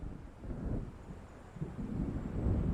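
Low rumbling thunder and wind roll over a lake as a storm approaches in the video game Alan Wake, a steady dark murmur swelling slightly toward the end with no voices.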